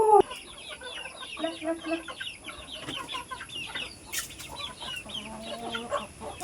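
Chickens cluck softly here and there over a quiet outdoor background, with a few short bird-like calls mixed in and no talking.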